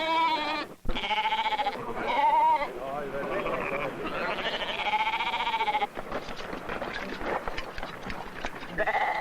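Sheep bleat repeatedly during a summer round-up in a Norse herding community, several wavering cries rising over a busy flock with someone speaking over parts of it.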